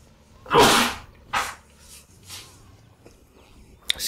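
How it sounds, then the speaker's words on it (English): A man's sharp, loud sneeze bursts out near the mic, followed by a couple of softer sniffs and breaths, then quiet room tone and a small click at the end. "Moments of silence while I try to hold my sneeze again."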